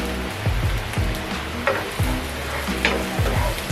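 Garlic sizzles and fries in a pan while a utensil stirs it, giving a steady hiss broken by periodic knocking and scraping, close up with no talking.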